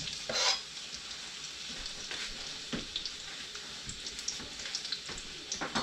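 Garlic and onion sauté in a pan with a steady close sizzle, broken by repeated scraping and clinking as a utensil stirs them, with no talking.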